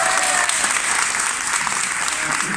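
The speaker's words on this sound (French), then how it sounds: "J'aime bien quand les gens applaudissent" An audience claps throughout a public debate in Haguenau. The applause is dense and sustained, a loud wash of many hands that holds steady for the whole stretch, with a faint murmur of voices underneath.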